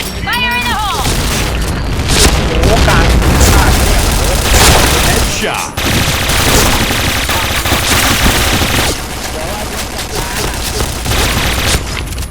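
Rapid bursts of automatic gunfire mixed with heavy booming grenade explosions in a video game, loud and close, with voices shouting now and then through the chaos.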